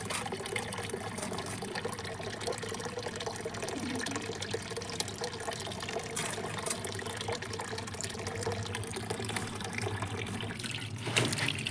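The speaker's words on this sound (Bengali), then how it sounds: "মাছটা কেটে নিয়েছি, এবার পরিষ্কার করে নেবো জল দিয়ে ধুয়ে।" Tap water runs steadily over cut khoira fish being washed clean in a home kitchen before cooking, a continuous close hiss and trickle with no talk.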